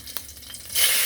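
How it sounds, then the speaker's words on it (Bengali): Dried red chillies dropped into hot oil left from frying potatoes burst into a loud, bright sizzle partway through, after a few soft stirring scrapes, and keep hissing to the end. "তো এই তেলের মধ্যেই দিয়ে দিলাম শুকনো মরিচ"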